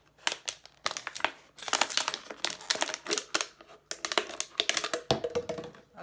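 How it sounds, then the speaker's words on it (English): Scissors cut through the thin neck of a plastic bottle, giving a run of sharp crunchy snips and crinkling crackles in quick irregular bursts, close and fairly loud, with no talking. "I need to cut the neck off of this bottle"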